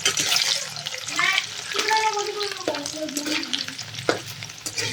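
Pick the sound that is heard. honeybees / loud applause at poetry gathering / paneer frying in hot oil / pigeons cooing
paneer frying in hot oil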